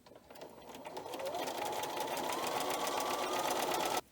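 A sewing machine stitches a filler strip onto a baby quilt, a steady fast whirring drone that builds after a soft start, runs evenly up close, and cuts off abruptly.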